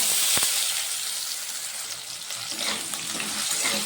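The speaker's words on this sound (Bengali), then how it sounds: "আলুটা ভালোভাবে ভেজে নেব।" Cubed potatoes sizzle steadily in hot oil with a dried red chili and black cumin seeds, a continuous close hiss and crackle with no voices.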